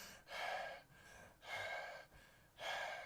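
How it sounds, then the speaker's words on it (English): Three heavy, rasping breaths, close and loud, each a long airy rush separated by short pauses. "You hear that heavy breathing?"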